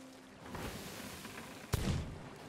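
A single gunshot from the player's gun in a pirate video game, one sharp loud crack near the end with a short rumbling tail, following quieter game ambience.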